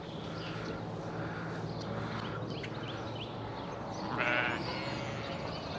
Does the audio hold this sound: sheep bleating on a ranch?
yes